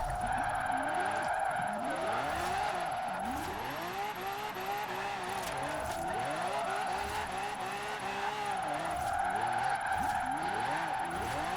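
Lamborghini Aventador J set up as a drift build in Forza Horizon 4, its engine wailing continuously with rapidly rising and falling revs and tyre squeal, loud and close throughout.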